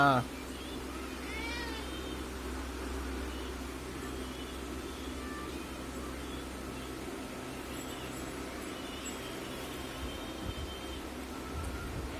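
A cat meows a few times near the start, then things settle into a steady low rumble with faint background noise.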